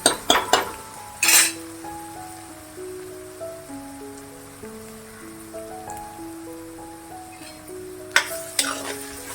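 Ginger garlic paste sautés in oil in a pan for Kolhapuri misal, with clinks and scrapes of a spoon against the pan at the start and near the end over a soft background sizzle.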